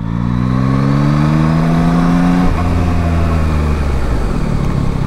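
A Yamaha Tracer 9 GT large-displacement motorcycle on a test ride in Malaysia gives a loud, steady engine drone that shifts pitch slightly partway through, with no voices over it.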